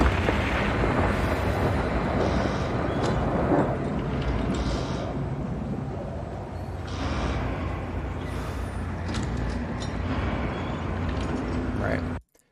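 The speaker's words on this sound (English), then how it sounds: "I've actually brought the factory ambience for Heisenberg's factory from Resident Evil 8" Industrial factory ambience from Heisenberg's factory in Resident Evil 8 fills the whole stretch as a dense, loud rumble, with thunder and scattered metallic clanks over it, and it cuts off abruptly at the end.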